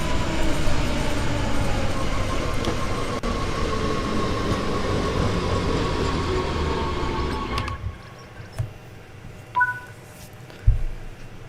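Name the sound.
train emergency stop in video game Train Sim World 3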